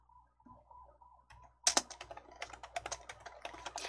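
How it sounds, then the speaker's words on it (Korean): Computer keyboard keys are pressed in a quiet room, a few soft taps followed by a sharp click and then a quick, irregular run of close typing strokes. "키보드 Alt-C 눌러주세요"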